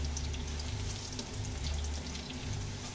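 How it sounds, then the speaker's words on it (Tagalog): Cauliflower with ginger and garlic stir-fries in a pan with a loud, dense, continuous sizzle close up, steady throughout without pause. "Stir fry muna natin."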